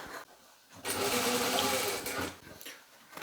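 Sewing machine stitching fur jacket panels, a close, fast mechanical whirr that runs in short bursts of about a second and a half, with brief stops between runs and no speech.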